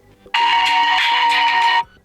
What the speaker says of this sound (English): Here you can change your phone ringtone.